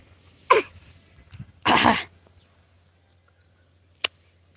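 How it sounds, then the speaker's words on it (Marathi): Two or three harsh coughs sound close up, one longer and rougher, followed by quiet and a sharp click near the end. "खोकला लागला"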